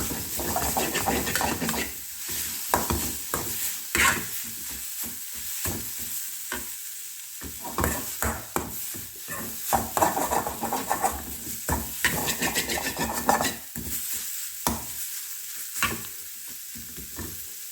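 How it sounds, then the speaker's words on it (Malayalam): A spoon stirs crushed coconut flower in a hot cooking pan, scraping and clacking in uneven strokes over a steady close sizzle, with no voices. "തുറന്ന് വെച്ച് നമുക്ക് ഒന്ന് ഇളക്കി നോക്കാം"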